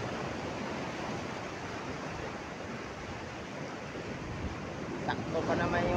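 Rough sea surf washes onto the shore in a steady, dense roar with wind buffeting the microphone, continuous and loud throughout.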